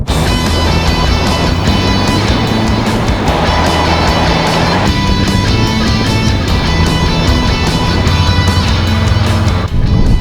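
A 2018 Subaru WRX STI with its boxer engine drives under load, a loud, continuous throbbing engine note heard from inside the car, shifting pitch partway through as it keeps pulling.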